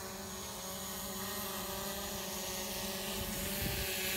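A drone flies in a demonstration simulating the sun's motion, its steady, dense whirring drone filling the whole stretch at an even level, with no speech over it.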